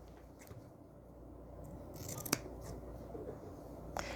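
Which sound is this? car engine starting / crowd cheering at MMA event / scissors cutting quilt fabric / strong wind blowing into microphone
scissors cutting quilt fabric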